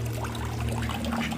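Water from a chicken waterer trickles and pours steadily into its tank, a continuous close liquid sound alone over a low hum.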